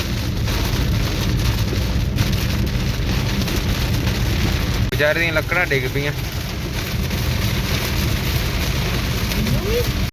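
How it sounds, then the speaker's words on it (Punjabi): Steady, loud downpour of heavy rain drumming continuously throughout on a road drive near Sri Ganganagar, with someone briefly speaking partway through. "ਬਹੁਤ ਤੇਜ਼ ਮੀਂਹ ਪੈ ਰਿਹਾ"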